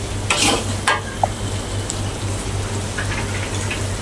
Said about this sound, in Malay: Minyak dah naik, dia dah pecah minyak. kelapa pun dah garing.